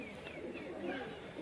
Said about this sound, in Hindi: यहीं पर देखें ये कबूतर भी बाहर आ गए हैं